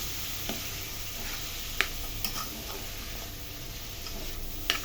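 Green beans with paprika stirred in a pan, a faint steady sizzle with a few soft spoon scrapes and taps against the pan.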